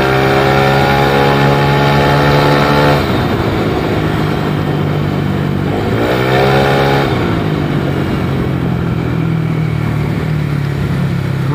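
A bored-up 155cc Yamaha Lexi scooter engine revs hard and close, a loud buzzing drone that climbs in pitch, drops back, then surges again in repeated throttle blips before settling into a steady high idle.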